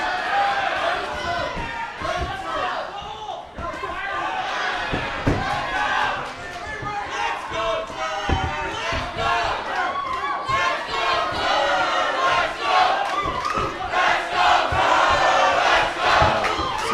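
A loud boxing crowd at an amateur main-event bout cheers and shouts throughout, a dense continuous roar of voices with sharp yells and surges rising toward the end.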